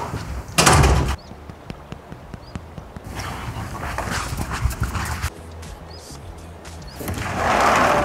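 A door slams loudly indoors near the start, then rhythmic knocking and clattering continue, with another heavy door impact and a sustained rush of noise toward the end.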